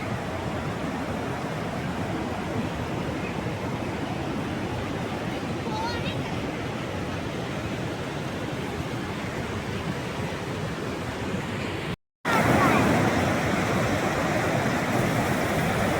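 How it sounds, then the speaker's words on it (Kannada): A waterfall on the Damodar river gives a steady, broad roar of rushing water that stays constant and fairly loud throughout, with a brief dropout near the end and voices talking over it. "ಒಂದು ವಾಟರ್ ಫಾಲ್ ಇದೆ ವಾಟರ್ ಫಾಲ್ ಇದು ದಾಮೋದರ ನದಿ ಇದೆ"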